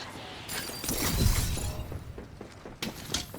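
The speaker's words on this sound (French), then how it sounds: "Mes boucliers sont épuisés." An energy shield in a shooter game shatters with a loud glassy crash, then a crackling, fizzing breakup trails off before a few sharp impacts.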